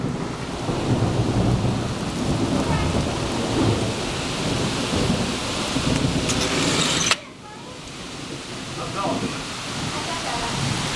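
Heavy rain pours steadily during a lightning storm in Maine, with a loud crack of nearby thunder about two-thirds through, after which the rain continues more quietly.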